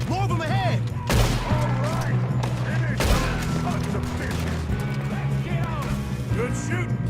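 A Red Dead Redemption 2 shootout gives loud, repeated gunshots, with heavy blasts near the second and third seconds over a continuous fusillade. Game voices shout throughout.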